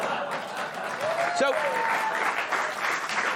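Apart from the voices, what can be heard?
studio audience applause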